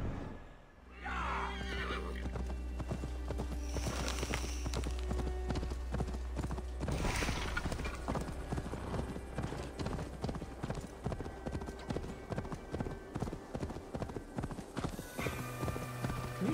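Horse hooves clip-clop in a steady, rapid rhythm as the horse travels in Assassin's Creed Valhalla, with a neigh breaking in, all over a constant game background.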